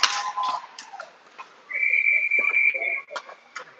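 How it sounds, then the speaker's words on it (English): A referee's whistle sounds during a youth ice hockey game, a long steady shrill blast held for over a second amid arena noise, with shorter chirps and faint crowd voices around it. "he's only 15 seconds too late on that whistle"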